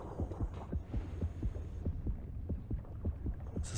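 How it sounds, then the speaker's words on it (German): Heartbeat sound effect in the underwater shark game Depth, a steady deep thumping pulse of double beats over a low hum, with no talking. "Doch Herzschlag ohne Ende."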